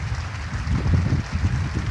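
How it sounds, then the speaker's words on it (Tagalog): Heavy rain pours with strong wind gusting against the microphone during a fishing trip, a dense, loud, continuous roar with low rumbling buffets throughout and no voices. "Lakas yung hangin sa ulan, no?"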